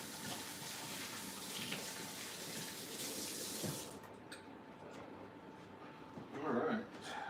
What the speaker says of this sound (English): But I'll wash my hands.